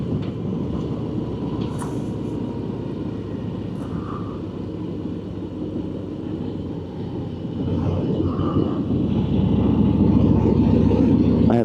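A Harley-Davidson Ultra Limited motorcycle under way gives a steady, low engine drone mixed with wind rush, growing louder toward the end.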